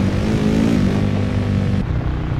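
A car engine in the 2008 video game Alone in the Dark, on PlayStation 2, made to sound like a V8: a loud, steady engine drone that drops off abruptly near the end.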